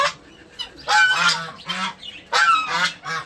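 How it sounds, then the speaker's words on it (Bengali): Loud, harsh honking calls of ducks and chickens in bursts on a rooftop, several overlapping squawks close by, with brief quieter gaps between. "হাঁস মুরগিগুলো ব্যারিকেড দিয়ে হই সই চিলাচিলি করতেছে"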